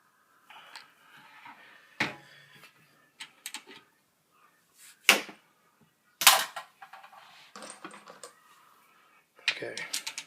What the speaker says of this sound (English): You guys have never seen that crimping operation before.